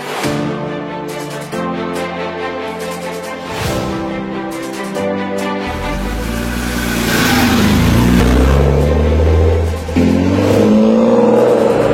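A BMW E36 accelerates hard in second gear along a straight, its engine note climbing steadily in pitch and growing louder over several seconds, close and continuous without speech.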